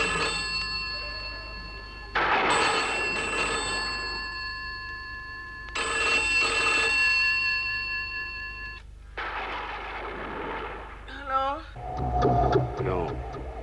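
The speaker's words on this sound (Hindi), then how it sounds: "अचानक फोन की घंटी बजी" An old-style telephone bell rings in two long, loud metallic bursts separated by a pause, followed by someone speaking and more voices over a background hum.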